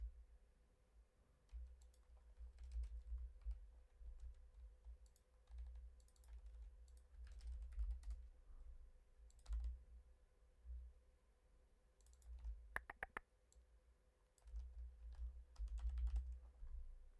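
Typing on an American-layout computer keyboard, with steady bursts of key clicks and a few pauses, close and fairly quiet, no talking.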